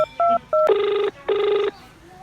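A telephone ringtone sounds close by: a few short beeps, then two long ring bursts with a brief pause between them, followed by quiet.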